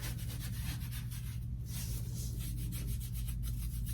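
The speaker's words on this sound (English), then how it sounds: "now I just take my brush and I brush it off" A soft brush sweeps excess gold leaf off an artwork in a continuous close, dry rubbing swish with rhythmic strokes and no speech.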